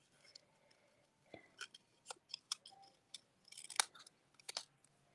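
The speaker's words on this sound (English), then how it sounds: "or cut our candle out" Scissors snipping through paper to cut out a small candle shape for a stamped thank-you card, a series of quiet, close, crisp cuts in short irregular bursts with pauses between.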